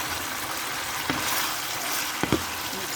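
Beef and vegetables with white onions stir-fry in a pan, a steady sizzle with a couple of quick stirring scrapes and no talk.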